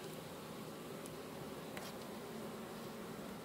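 Honeybees buzz steadily and softly while brood frames are moved from a small nucleus box into a full hive, a close, continuous drone of many insects with faint handling clicks and no voices.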